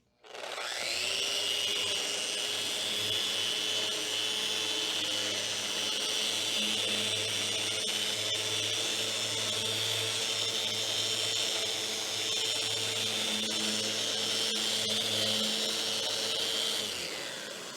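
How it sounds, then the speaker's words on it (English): A Festool Rotex 150 random orbital sander with 80-grit paper whirs steadily on wood, a continuous high buzzing drone with a low hum underneath, running alone from start to finish. "So this is the 80 grit in sanding mode first."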